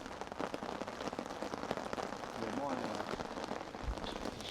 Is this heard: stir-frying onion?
no